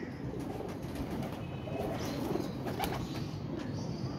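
Racing pigeons, a young female among them, take flight with flapping wings, a continuous rustling flutter steady and fairly near, with no voices over it.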